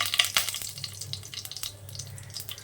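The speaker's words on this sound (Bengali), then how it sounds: "সর্ষের তেল দিয়ে দিচ্ছি সাদা জিরে শুকনো লঙ্কা" Cumin seeds and dried red chillies sizzle in hot mustard oil, a steady close crackle with scattered sharp pops, loudest in the first half-second and then settling into an even hiss with no voices.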